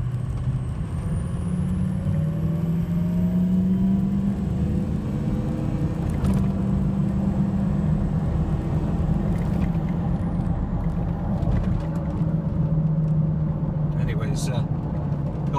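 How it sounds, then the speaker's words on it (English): A 2003 Powerstroke diesel 4x4 truck drones steadily and loudly from nearby as its turbo spools up, with a faint rising whistle over the deep, continuous engine rumble. "Turbo spools up. Listen to this thing."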